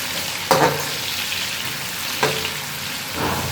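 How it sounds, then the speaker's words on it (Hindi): Onions frying in a commercial deghi-style pot for aloo palak, a constant sizzle with two sharp scraping stirs and a softer third, close and loud with no talk. "हम इसको उस वक्त भूनेंगे जब तक इसका कच्चापन खत्म ना हो जाए। यह प्याज, इनको मैंने हल्का ब्राउन डालना है।"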